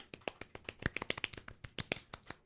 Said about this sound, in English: Golf clap for Brandon.